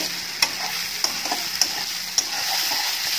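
Onion, garlic and bay leaf fry in a hot pan with a steady sizzle, broken by a few sharp clicks from stirring at a moderate, even level.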